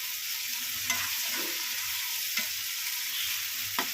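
Tomatoes and onions sauté with salt in a pan, giving a steady bright sizzle broken by a few soft scraping stirs, heard close with no talking.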